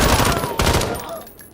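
Assault rifle machine-gun fire in a video game, a rapid close burst of shots with a second burst at about half a second that trails off into a fading echo.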